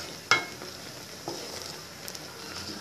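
Jujube pickle cooking in a pot, a soft low simmer with one sharp utensil clink near the start and a few faint stirring scrapes afterward.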